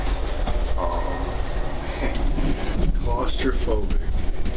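A moving train rumbles and rattles with steady clickety-clack, heard from inside a very small onboard bathroom, a constant low roar under someone speaking.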